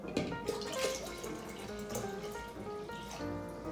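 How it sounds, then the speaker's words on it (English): Water pours steadily into a soup pot for chicken vegetable noodle soup, one continuous splashing stream that runs close and unbroken, with no one talking over it. "we're gonna be adding 8 cups of water"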